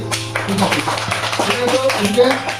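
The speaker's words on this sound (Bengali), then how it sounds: "চলো হাততালি।" A group of children in a classroom memory game claps hands in irregular bursts close by, mixed with talking voices.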